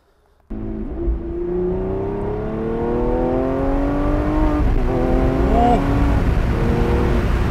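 A Lamborghini Aventador LP 780-4 Ultimae's 780-horsepower V12 engine starts abruptly and revs loudly, its pitch climbing steadily with a brief dip and surge, close and dominant throughout.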